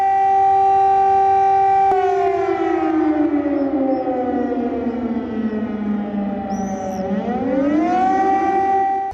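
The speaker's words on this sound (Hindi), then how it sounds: "इजराइल के इलाज शहर में बज रहे सायरन की ये आवाज सुनिएगा।" Air raid siren sounding across a city in Israel, a loud sustained wail that holds steady, slowly sinks in pitch, then rises again, with no voices over it.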